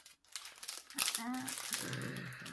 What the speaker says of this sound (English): I know some of you don't like the crinkling, so stick your fingers in your ears for a minute.